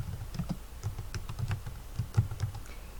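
Keys clatter on a computer keyboard in a quick, irregular run of soft close taps, a short burst of typing heard alone with no voices.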